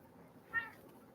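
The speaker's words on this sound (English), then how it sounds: "I love this cat." A single short cat meow, an eight-year-old male cat, sounding faintly and briefly over a low steady background hum.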